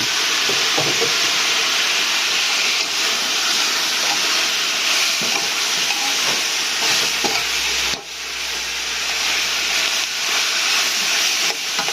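Onion flowers stir-fry with sweet sauce in a hot pan, a steady loud sizzle and hiss throughout, with occasional scraping stirs and no talking.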